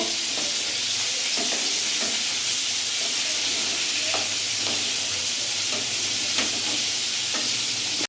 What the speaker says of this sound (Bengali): পোস্তটা আমি দিয়ে দিলাম। গ্যাসের ফ্লেমটা আমার ফুল আছে, আমি ভালোভাবে নাড়াচাড়া করে নেব।